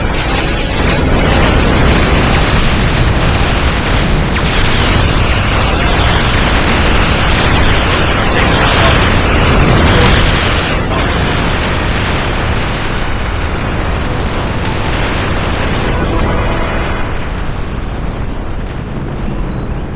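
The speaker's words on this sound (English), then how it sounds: "Quantum torpedoes, maximum yield," Quantum torpedoes fired at maximum yield burst against Vaadwaur ships in a Star Trek space battle, a dense, continuous roar of loud explosions and booms with sweeping whooshes layered through, sustained and overwhelming for the whole stretch.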